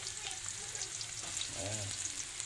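Onions frying in a pan for ginataan puso ng saging with papaya and malunggay, a steady soft sizzle with a brief stir or scrape partway through and a faint voice in the background.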